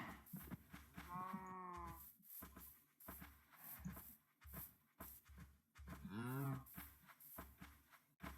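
Minecraft cows mooing in a blocky game world, two long drawn-out lowing calls with a pause between, fairly close and clear over faint game ambience.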